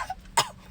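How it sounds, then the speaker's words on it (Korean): A single short cough, close and fairly loud, with a faint throat sound just before it. "너무 좋아가지고 기침이 나옵니다."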